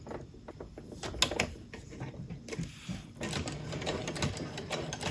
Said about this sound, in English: I'm going to sew at about 1/4 of an inch seam allowance